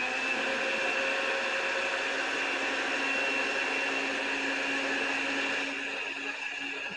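A blender purees homemade mayonnaise, holding a steady, loud whirring hum throughout that eases slightly near the end.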